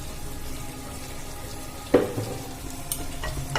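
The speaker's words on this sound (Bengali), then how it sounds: "গরম হয়ে গেছে তাওয়া, এবার আমি দিয়ে দেব সাদা তেল।" White oil heats on a hot tawa for frying, giving a faint low sizzle with a sharp clink or pour near the middle and a few soft clatters afterward.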